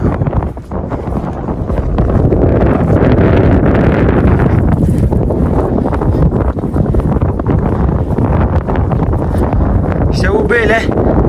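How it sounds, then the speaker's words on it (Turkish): Strong outdoor wind blasting into the microphone on open farmland where sheep are kept, a loud, continuous buffeting rumble that barely lets up for the whole stretch, with a person's voice partly buried beneath it. "Ya bu rüzgar var ya, bu rüzgar var benim."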